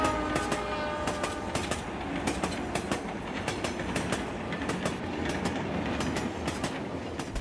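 A train rolls past close by with loud rumbling, rhythmic clickety-clack of wheels over rail joints and some squealing, steady throughout.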